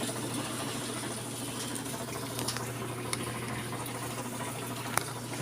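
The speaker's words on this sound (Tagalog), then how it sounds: "Pasok na yung tubig." Water runs into a Samsung automatic washing machine, a low, steady rushing fill with a faint hum beneath and a few small ticks, heard alone.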